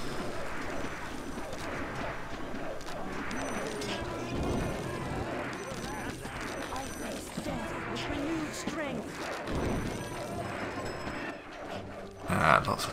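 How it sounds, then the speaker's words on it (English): Meteor storm impacts rain down in the fantasy kingdom strategy game Majesty, a run of crashing, booming hits and rumbles layered over game effects, fairly loud with a sharper burst near the end. "meteor storms and stuff like falling down on them"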